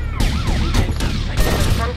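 A police siren wails in GTA Vice City during a rampage mission chase, its rising and falling tone sweeping repeatedly over bursts of gunfire and game noise, fairly loud throughout.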